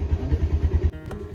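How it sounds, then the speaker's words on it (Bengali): A car engine starts on a cold winter morning, giving a short run of low, rhythmic chugging pulses that stop abruptly after under a second. "আমি গাড়িটা এখন স্টার্ট করে দিয়ে ফোন করছি"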